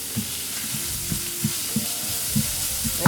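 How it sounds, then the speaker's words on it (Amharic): Onion dropped into hot oil sizzles and fries steadily, with a soft stirring scrape recurring every half second or so, close and moderately loud. "ከዛም ዘይቱ ሲግልልኝ እንደዚህ ሽንኩርቴን ጨምራለሁ።"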